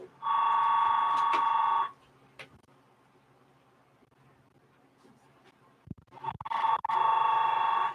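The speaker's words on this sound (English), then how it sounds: "Oh, there goes my phone again." Telephone ringing indoors, two long electronic ring bursts separated by a quiet pause, close and fairly loud, with faint handling noises between them.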